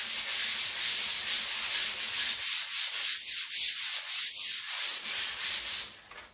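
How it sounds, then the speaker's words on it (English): Rhythmic back-and-forth sanding with a medium sanding pad over lacquered fabric on furniture, a close, scratchy rubbing repeated in steady strokes before stopping. "You can also use your medium sanding pad just to sand over the fabric."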